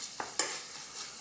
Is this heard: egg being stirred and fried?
yes